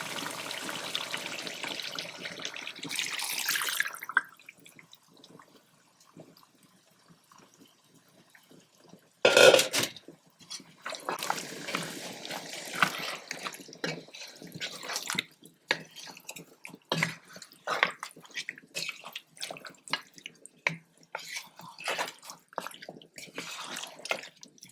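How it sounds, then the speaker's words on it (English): A peanut butter beef stew with vegetables is stirred in a pot, giving soft wet blurps and irregular thick bubbling squelches, faint and close, with one louder splash partway through. "Stir it up nicely."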